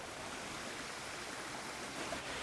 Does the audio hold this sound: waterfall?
yes